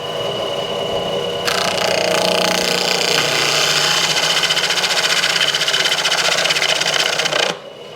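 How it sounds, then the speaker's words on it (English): Machine cutting wooden tomato stakes, a loud close mechanical whirring that picks up sharply after a moment into a steady rapid clatter, then cuts off abruptly near the end, with no talking. "I got Eddie behind me picking them up off of the machine, and we're going to run a few here and show you how it works"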